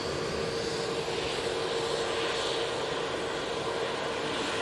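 An Etihad airliner arriving from Abu Dhabi at Manchester Airport gives off a steady, fairly distant jet engine drone with a faint whine, unbroken throughout.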